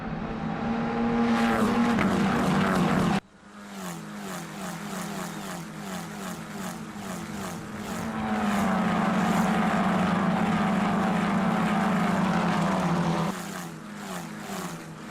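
Italian F4 single-seater race cars at Vallelunga near Rome, engines screaming past close by in loud rising and falling passes, with a sharp cut and another car's whine building, under faint crowd and commentary ambience.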